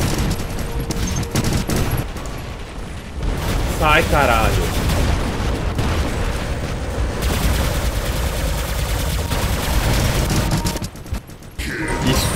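War Robots gunfire: dense, sustained bursts of weapon fire and mechanical combat noise run steadily throughout, with someone speaking briefly over it.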